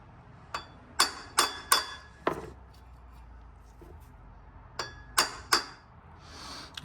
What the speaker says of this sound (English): Get a hammer very gently because you don't want to bend it.